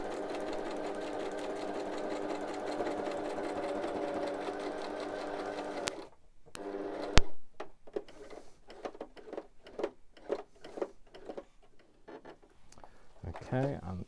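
Sewing machine stitching ribbon, a steady fast mechanical whirr for about six seconds that stops, followed by scattered clicks and knocks in a quieter room.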